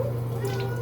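A house cat meows briefly and close by, a short tonal call over steady running water, with no talk over it.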